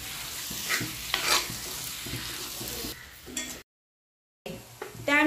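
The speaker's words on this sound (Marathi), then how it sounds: "आता व्यवस्थित असं मिक्स करून घेणार आहे।" Prawn masala being stirred in a pan, scraping and light sizzling that run steadily, then a brief break of silence before the stirring picks up again, close and moderately loud.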